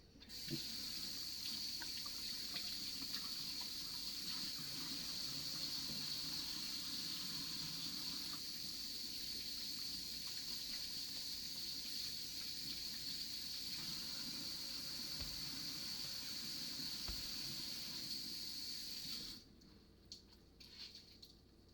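Tap water runs steadily into a sink while mead-making equipment is cleaned, a constant splashing hiss lasting about nineteen seconds before the flow stops, followed by a few faint knocks.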